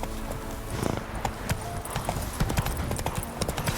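Roach, a horse in Witcher 3, trots with steady clip-clop hoofbeats up close, a brief whinny-like sound and faint game ambience mixed in.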